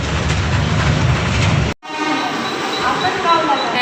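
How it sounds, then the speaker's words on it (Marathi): A train pulls into a station platform with a loud rumbling roar, cuts abruptly, then continues as a quieter rolling clatter with faint rail squeal and steady ambient noise. "तर बघा ट्रेन आलेली आहे"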